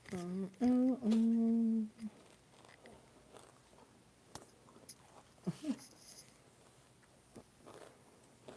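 Someone chews food close to the microphone, with soft irregular crunches and mouth clicks spread across a quiet background after a brief hummed voice at the start.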